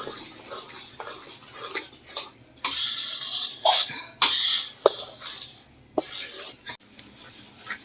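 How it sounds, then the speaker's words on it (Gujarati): Urad flour being stirred into hot ghee in a metal pan for adadiya, a Gujarati winter sweet: close, uneven scraping and clinking strokes of a spoon against the pan, coming in irregular bursts with brief quiet gaps and no talk. "અને હવે લોટ અને ઘી બધું મિક્સ કરી લઈશું."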